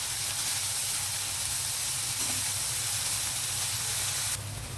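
Onions frying in a pan for a drumstick and jackfruit seed curry, a constant sizzling hiss that holds steady and then dips slightly near the end, with no voices.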